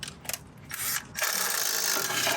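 A 12 mm ratchet clicks in short bursts while driving a bolt to push out a rusted brake rotor, followed by a longer stretch of rough, grinding turning.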